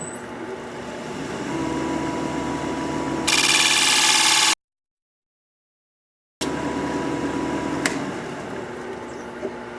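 A wood lathe spins while a gouge hollows out a square four-legged bowl, giving a steady broadband cutting roar with a brighter, harsher stretch of tool contact, then a sudden gap of silence before the even turning noise resumes.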